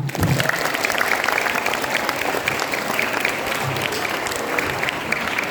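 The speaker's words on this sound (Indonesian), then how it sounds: "Tepuk tangan untuk kita semua" Children at a Maulid Nabi gathering clap their hands together, a loud, dense, continuous patter of applause that carries evenly throughout, with faint voices underneath.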